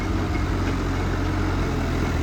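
A tractor engine runs in neutral, a steady low mechanical rumble idling continuously and evenly close by without speech.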